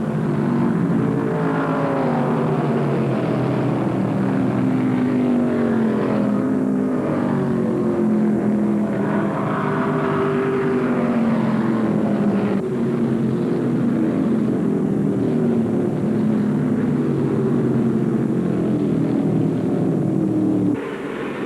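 1975 NASCAR Winston Cup stock cars roar around the Atlanta track at the restart, a dense, sustained engine drone with pitch sweeps as the pack passes, loud and continuous without speech.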